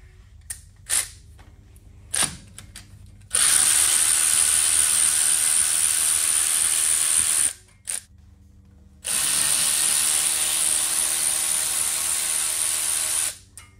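Power tool loosening brake caliper hose bracket bolts, 8 mm and 10 mm, on a Ford F150 during hub assembly work: two long sustained whirring bursts with short clicks and taps before and between.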